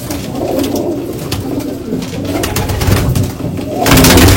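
Pigeons, including young black ones, coo in a loft. The low murmuring calls are close and continuous, with a steady rustling hiss underneath.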